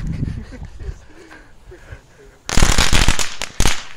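Fourth of July fireworks at a backyard gathering: quiet voices and faint pops first, then a loud rapid crackling barrage of firecracker-style bursts erupts and continues with sharp bangs, with people talking nearby.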